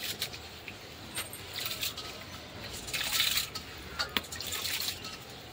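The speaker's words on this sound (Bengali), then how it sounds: "এখন চালটা ধুয়ে নেব।" Rice is washed by hand in water, soft splashing, squishing and dripping close by, with brief louder swishes as the grains are rubbed and stirred.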